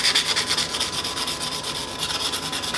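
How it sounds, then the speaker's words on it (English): Computer case parts being scuffed by hand with an abrasive before priming, a steady close rhythmic rubbing and sanding stroke repeated quickly throughout, with no talk. "Just want to scuff up the surface a little bit, and then I'm going to go ahead and get them in primer."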